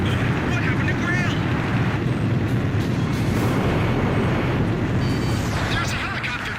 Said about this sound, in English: Target hit!